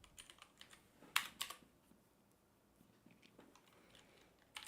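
Typing code on a computer keyboard while working a Leetcode problem: scattered soft key taps with a brief louder burst of clicks near the start and another at the end, fairly close and quiet, with no talking.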